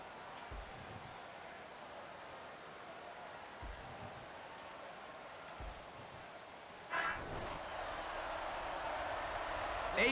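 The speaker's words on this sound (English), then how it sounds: "the rain is really pouring down as the Bears take on the Eagles" Heavy rain falls in a football video game on the Wii, Madden 11, a steady hiss through a stadium, with a few low thumps and a brighter surge of noise partway through.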